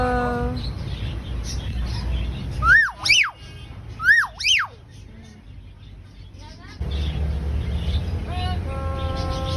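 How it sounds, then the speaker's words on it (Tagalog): Parrot giving a few loud, swooping whistled calls in two close pairs, over steady background rumble and traffic-like noise, with people talking around it. "Ito si parrot."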